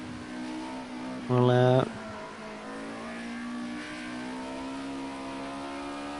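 Mercedes 190E touring race car at Oschersleben, its engine droning steadily as the driver eases off the throttle, with a short loud harmonic burst early and a commentator's voice briefly over it.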